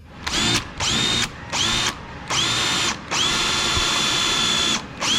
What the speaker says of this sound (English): drill down exactly like that